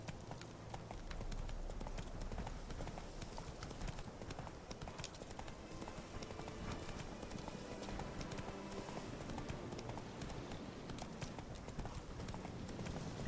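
Hooves of Geralt's horse Roach in The Witcher 3: Wild Hunt, a steady close clip-clop of a horse moving along under constant game ambience, with no talk.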